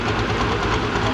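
A tractor engine idles steadily at a tractor pull on a rain-soaked track, a dense, continuous low rumble with no talk over it.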